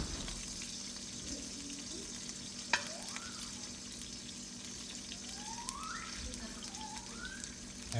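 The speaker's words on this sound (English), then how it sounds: "Now we're frying our chicken before we put it" Steady, quiet sizzling and hissing of pork and chicken frying in a pan for adobo, with a brief clink and faint high whistling tones drifting through.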